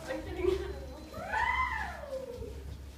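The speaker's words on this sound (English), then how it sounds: "Oh, there's a cat." A cat gives one long, rising and falling meow inside a haunted asylum attraction, loud and close, with people talking around it.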